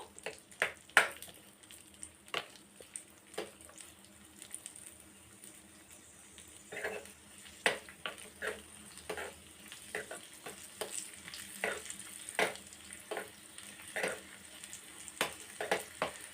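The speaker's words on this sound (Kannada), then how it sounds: "ಗೋಡಂಬಿ ಸಹ ಹಾಕ್ಕೊತಾ ಇದ್ದೀನಿ ಸ್ವಲ್ಪ ಇದು ಫ್ರೈ ಆಗಲಿ ಲೈಟ್ ಬ್ರೌನ್ ಆಗಿ ಫ್ರೈ ಆದರೆ ಸಾಕು" Cashews frying in ghee, a faint low sizzle punctuated by many sharp spoon taps and scrapes against the pan in an irregular rhythm, with no voices.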